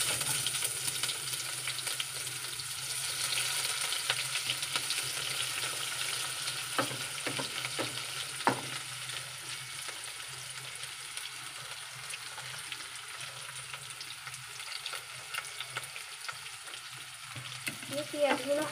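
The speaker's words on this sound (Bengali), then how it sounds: "পেঁয়াজগুলো হালকা নাড়াচাড়া করতে হবে, হালকা ভাজতে হবে।" Onions frying gently in a pan with whole cumin seeds, a soft, continuous sizzle broken by occasional scraping stirs and light clicks of the utensil, quiet and close, with no voices.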